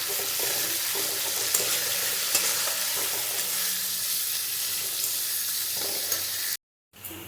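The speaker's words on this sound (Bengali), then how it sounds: "পেঁয়াজটাকে অল্প নুন দিয়ে আমি ভালো করে ভেজে নেব।" Chopped onion with a little salt fries in hot oil for a crab curry, a loud, steady, close sizzle with occasional stirring scrapes and taps on the pan, cut off briefly by a moment of silence near the end.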